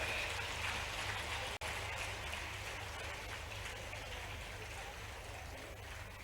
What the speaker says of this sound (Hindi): मैं चाहूंगा तालियों की गड़गड़ाहट के साथ में उनका अभिनंदन और स्वागत हम करें